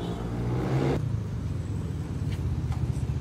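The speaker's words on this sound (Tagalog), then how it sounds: "napaka-traffic dito ngayon oh." Heavy road traffic passes close by as a modified Yamaha NMAX V2 scooter with a CVT set and JVT pipe sits idling nearby, giving a loud, steady rumble of car and motorbike engines, then a slightly quieter wash of passing vehicles.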